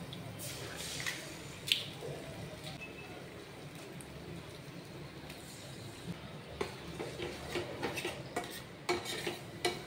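Eggs and onion for an omelette stirred in a pan, heard as a quiet sizzle under soft scraping and occasional clinks of a utensil against the pan, close but faint.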